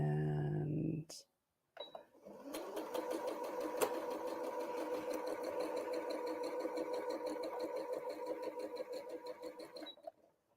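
A sewing machine running steadily as quilt block pieces are stitched, with a rapid even needle rhythm lasting several seconds after a brief bit of nearby talk and a click.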